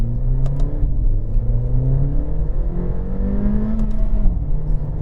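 A Mercedes A45 AMG hot hatch accelerates hard along a road, its engine note climbing steadily through the gears, loud and close from inside the cabin with continuous road roar underneath.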